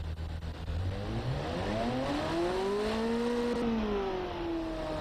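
Engine revving in the Automation car design game, with a harmonic pitch that climbs, holds high and then eases back down over a steady loud drone, heard alone with no voices.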